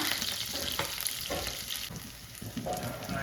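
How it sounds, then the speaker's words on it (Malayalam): Green chillies and curry leaves frying in a pan while being stirred, a continuous bright sizzle broken by scraping strokes of a spoon, close and fairly loud with no voices. "പിന്നീട് കുറച്ച് കറിവേപ്പില കൂടി ഇട്ടിട്ട് നല്ല പോലെ ഇളക്കുക."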